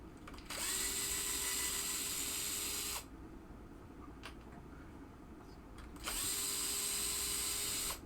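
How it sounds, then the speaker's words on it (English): Power screwdriver tightening loose screws on the underside of a Williams pinball playfield: two steady high whirring runs of about two and a half seconds each, close and fairly loud, separated by a quieter pause. "So I'm gonna have to tighten the screws up."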